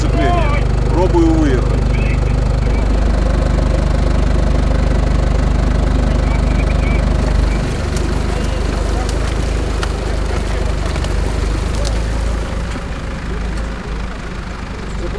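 Car engine straining under load while trying to climb out of a swamp with a slipping clutch, a loud low drone that sags and labours, with someone talking over it.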